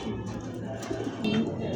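Pigeons kept for sale, including racer, Lahori and satin breeds, coo softly in low, throaty murmurs at close range during the night, with faint background voices.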